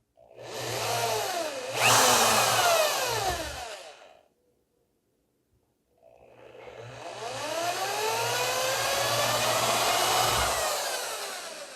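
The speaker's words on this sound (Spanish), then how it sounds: "Y donde hicimos la marca, perforamos. Vamos a hacer 3 agujeros." Power drill boring holes for a homemade VHF/UHF TV antenna, two sustained whining runs with rising and falling pitch, separated by a brief silence, close and loud.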